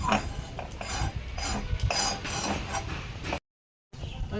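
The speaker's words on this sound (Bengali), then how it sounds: "এটা সিদ্ধ হতে হতে আমি ঝিঙ্গাটা কেটে নিচ্ছি" A knife cuts ridge gourd in a home kitchen, giving a run of close, irregular chopping and scraping knocks for several seconds, then a brief silent gap before the cutting noise resumes.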